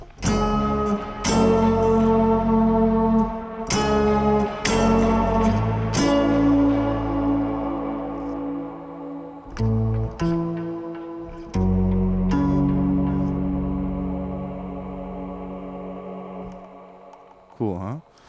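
Guitar through a Mel 9 pedal imitating a mellotron choir, a series of strummed chords swelling into sustained, choir-like pads with gaps between them, ending in a brief pitch-swooping flourish; no talking.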